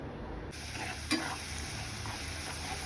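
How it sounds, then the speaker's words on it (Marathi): Green chili paste frying in oil in a pan, a soft steady sizzle with a faint stirring clink, close and quiet, no talking. "ती पेस्ट आपण तेलात परतून घ्यायची"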